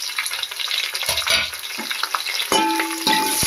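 Green chillies sizzle and crackle in hot oil in a pan for chicken biryani, a steady close frying hiss with a couple of sharper bursts near the end as pieces hit the oil.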